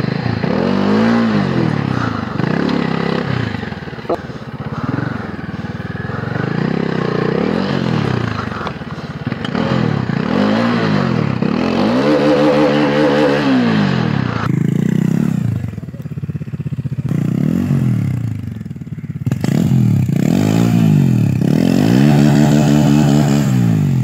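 A Bajaj Dominar 400 motorcycle engine is revved repeatedly, with close, loud throttle blips that rise and fall in pitch over an idling rumble, falling quieter for a moment before it picks up again.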